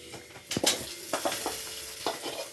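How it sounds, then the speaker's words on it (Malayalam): Jackfruit being added and stirred into a fish curry in a pot, with a bubbling sizzle beneath repeated scraping and stirring strokes close by, and no talking. "ഇതിനി നമ്മൾ മീൻകറിയിനകത്ത് ഇടണം."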